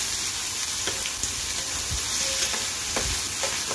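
Onion, tomato and ginger-garlic paste frying in oil, a loud, continuous close sizzle with soft stirring scrapes and occasional spatters.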